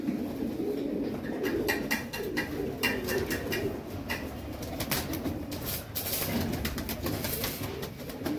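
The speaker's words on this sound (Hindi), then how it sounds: "ये बड़ा टैडी कबूतर है," A large Teddy pigeon coos repeatedly, its deep, rolling calls close and fairly soft, recurring in a loose rhythm over a steady background of other birds.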